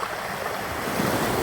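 Sea waves wash against a rocky shore in a continuous, fairly soft surf roar, building slightly toward the end.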